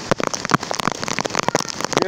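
Heavy rain falls in Paracuru, a steady loud patter of drops hitting surfaces close by with no pauses.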